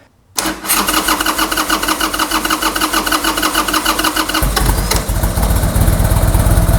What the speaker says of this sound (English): I'm going to go ahead and crank it until it starts so that I know the carburetor's full.